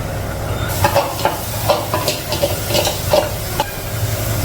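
Chana and fish frying in a pan, a steady close sizzle broken by repeated light scrapes and stirring clinks, with no talking.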